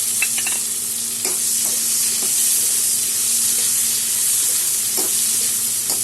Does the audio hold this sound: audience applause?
no